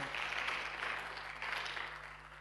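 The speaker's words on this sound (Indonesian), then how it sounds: "Tepuk tangan bagi Allah kita." A church congregation claps together in sustained applause, a dense wash of hand claps swelling and easing in waves, heard from within the room.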